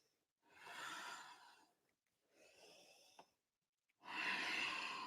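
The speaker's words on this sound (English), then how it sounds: "if you hear snoring sound, it's just me using my Ujjayi breath" Ujjayi yoga breathing, a throaty, snore-like rasp, heard as three long breath strokes with quiet gaps between them, close and soft, with no talking.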